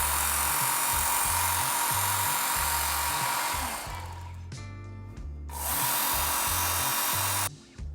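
Steady whirring drone of a belt knife sharpener running loud and continuous, with a knife drawn along the belt and the pitch and level shifting briefly mid-stroke before resuming.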